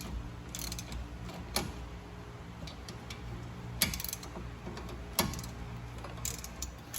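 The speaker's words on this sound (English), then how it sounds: "I have a small extension with my 3/8" socket wrench. And I'm going to go ahead and loosen these." A 3/8 inch socket wrench with a small extension loosens rear brake bolts on a Fiat 500 Abarth, giving a faint, steady ratcheting tick over a constant hum, with a few sharper clicks and clanks along the way.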